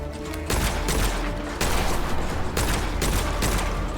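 Rapid hip-fired gunfire in the video game Witchfire, dense loud volleys of shots in sustained bursts with brief breaks between them, close and continuous.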